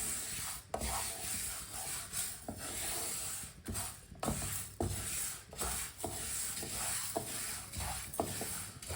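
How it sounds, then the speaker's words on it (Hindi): A spoon scrapes and rubs through moong dal as it dry-roasts in a pan over medium heat, giving repeated rough stirring strokes with short pauses, close and fairly quiet. "इसी तरह चम्मच चलाते हुए इसे हल्का सा ब्राउन कर लेना है।"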